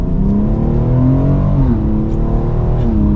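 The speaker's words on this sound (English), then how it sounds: "Let's give it another acceleration though in drive." A 2023 BMW X3 M Competition accelerates hard in drive, its loud engine note climbing steadily through the revs and easing at an upshift, heard close from inside the cabin with no talking.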